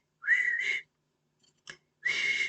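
Two long, bright whistles imitating a happy tapir's call, separated by a pause with a short sharp sound in between.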